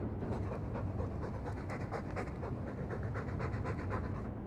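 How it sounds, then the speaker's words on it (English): Fast, loud panting from a dog in the Dragon Age 2 game, an even run of close, breathy huffs with no pause. "All that noisy dog breath,"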